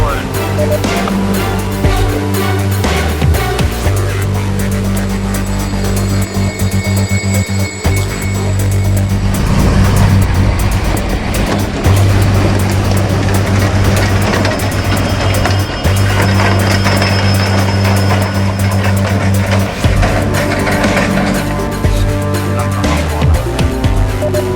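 An INEOS Grenadier off-road vehicle rolls slowly in gear. A steady, close drivetrain drone carries on with scattered mechanical clicks and rattles.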